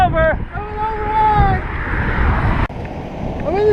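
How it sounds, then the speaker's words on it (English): Steady wind roaring and buffeting a microphone during a bike ride in Bahrain, heard close and loud while a voice speaks over it. "It's windy right now."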